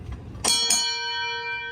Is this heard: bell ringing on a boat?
yes